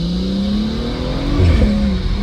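A car engine revs up hard while the turbo spools, a loud, close rising whine over a throaty engine drone during a short nighttime burst of acceleration, with no talking.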